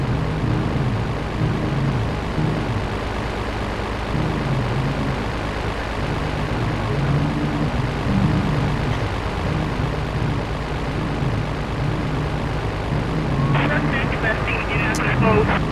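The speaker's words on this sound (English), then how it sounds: "this plane is like going at stalling speed" A propeller plane flying near stalling speed in the game GTA III gives a steady low engine drone throughout, with voices talking over it.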